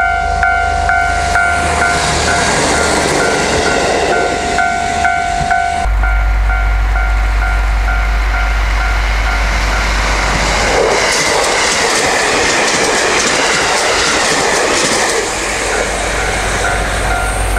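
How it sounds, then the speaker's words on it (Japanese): Early-morning first train on a December morning near a beach, rumbling loud and close with steady clickety-clack and hiss of the rail cars over the full stretch, no voices. "一番列車ですね。"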